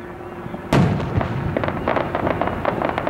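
Fourth of July fireworks in Bellingham, Washington go off with one sharp loud bang, followed by a dense, sustained crackle of smaller bursts and sizzling pops.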